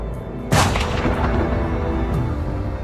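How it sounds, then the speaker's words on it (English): A firing squad's volley: one sharp, loud gunshot burst followed by a long echoing decay and rumbling reverberation, with faint later reports. "As the echoes of gunshots die down"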